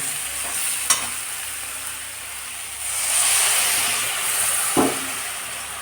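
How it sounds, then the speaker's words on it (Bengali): Cabbage curry with peas being stirred in a pan, with a soft sizzle running throughout, two sharp scrapes of the spoon, and a louder hiss of frying midway. No one speaks. "খুব ভালো করে মিশিয়ে নিচ্ছি"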